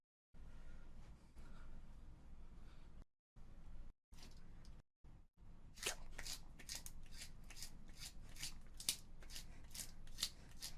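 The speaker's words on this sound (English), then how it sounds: "World record pencil sharpening." A pencil is sharpened at speed against a world-record attempt, giving rapid, crisp scraping strokes in a quickening rhythm, fairly close and faint, after a few shorter bursts separated by silences.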